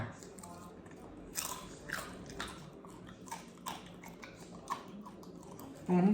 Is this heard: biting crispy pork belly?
yes